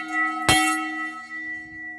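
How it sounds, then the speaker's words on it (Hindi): A single metal railway station bell is struck once with a hammer, ringing out sharply and then sustaining a clear, slowly fading tone. "जी ये घंटी है और ये साथ इसका हैमर है"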